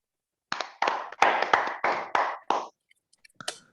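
Scattered applause from a few people in an online church gathering, heard as a short run of sharp, uneven claps through meeting microphones that stops after a few seconds, followed by faint clicks.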